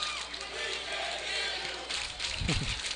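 Home College Station crowd at a high school baseball playoff game against Friendswood, a steady wash of cheering and yelling that swells near the end with louder shouts, heard from a distance under a broad murmur.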